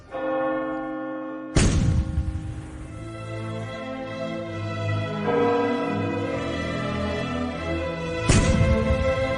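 A heavy church bell tolls slowly for the dead, each deep, ringing strike blooming and lingering before the next; two loud strikes, spaced far apart, ring out alone.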